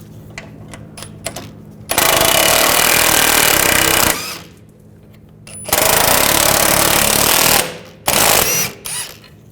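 Impact wrench bursts loosening the rear lower shock mount bolts on a 2007-2013 BMW 328i, fitted with an E12 socket: three loud sustained rattling runs of about two seconds each, separated by quiet pauses.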